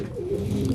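A pair of French squab pigeons, a male and a female, give a low, close, steady cooing that fills the short moment without any voices.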